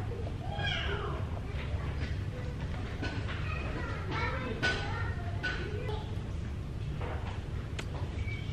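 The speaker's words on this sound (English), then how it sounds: "there are children screaming at the back of the library" Children screaming and playing at the back of a library, their shrill voices rising in bursts over a steady low rumble of nearby construction, with a few voices talking throughout.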